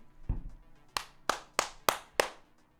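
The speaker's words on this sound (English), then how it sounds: "Claps, everybody." Five sharp, separate hand claps ring out one after another at an even pace, close and crisp, following a softer thump at the start.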